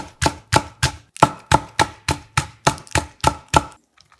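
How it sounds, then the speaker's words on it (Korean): A kitchen knife thinly slices a green onion leaf on a cutting board during Korean home cooking: about eleven crisp, evenly spaced chops, close and clear, with no talking. "시원한 대파잎 1개 얇게 송송 썰어서 담아주세요."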